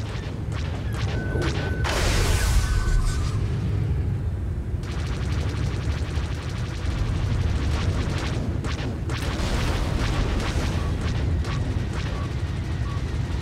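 Explosions and booms from a Star Wars: The Old Republic starfighter space battle rumble loudly and continuously, with a sharp blast burst early on amid whooshing engine and weapon noise.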